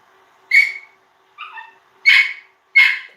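Puppies bark and yip in four short, high bursts with brief pauses between, fairly close and loud against an otherwise quiet room.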